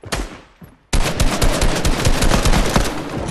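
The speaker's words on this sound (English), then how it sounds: "All I just hear is gunshots." Fortnite gunfire: a couple of quick shots, a brief pause, then a dense sustained burst of rapid automatic fire, loud and close.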